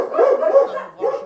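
A dog barks several times in quick succession, loud and close, with short yelping barks and no talk over them.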